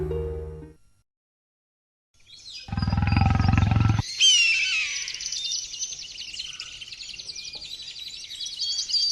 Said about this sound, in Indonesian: Aku yakin itu singa atau harimau pemangsa manusia.